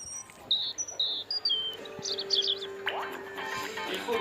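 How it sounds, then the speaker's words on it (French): Thin, high European robin song in short warbling phrases rises and falls over a faint background of insects and low hum, fairly close and clear. "Le rouge-gorge."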